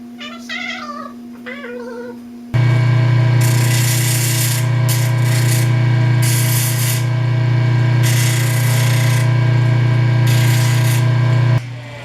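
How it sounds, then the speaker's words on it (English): A pneumatic sander with 100-grit paper sands wood, a steady, loud drone with a rasping, grinding edge running continuously for about nine seconds, preceded by a few quieter sounds, then cuts off. "I start sanding these with the 100 grit on my pneumatic sander."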